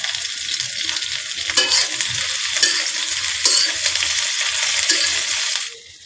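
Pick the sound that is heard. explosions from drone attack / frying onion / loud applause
frying onion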